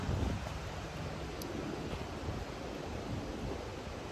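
Steady gusty wind buffeting outdoors in New Hampshire, a broad rushing noise with low rumbling bursts against the microphone, no voices.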